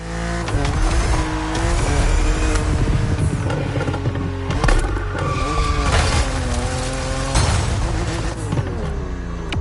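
A BMW cabriolet drives hard in the racing video game The Crew Motorfest, its engine revving up and down through repeated gear shifts with tires squealing through corners, loud and close throughout.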